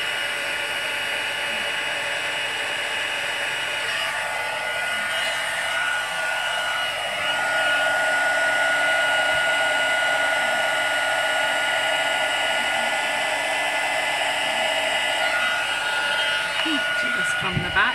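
A hair dryer blows steadily and loudly on a watercolour resist painting, a constant whirring roar that shifts slightly in pitch midway as the airflow is moved, with no talk over it.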